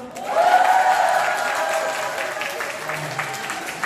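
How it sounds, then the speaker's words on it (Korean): Wedding guests clap together in a loud practice round of applause that swells quickly and then holds steady, with a voice carrying over the clapping. "박수는 크게 쳐주시는데 네, 한번 연습하겠습니다"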